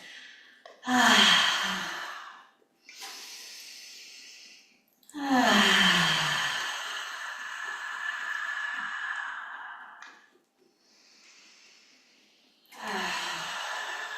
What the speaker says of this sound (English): deep breaths into your belly. We'll exhale out the mouth.